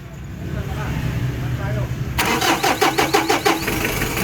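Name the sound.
Mitsubishi Adventure 4D56 diesel engine starting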